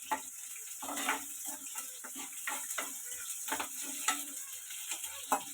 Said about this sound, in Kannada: ಸ್ವಲ್ಪ ಲೋ ಫ್ಲೇಮಲ್ಲಿ ಮಾಡ್ಕೊಂಡು ಈರುಳ್ಳಿ ಹುರ್ಕೋತಾ ಇದ್ದೀನಿ ನಾನು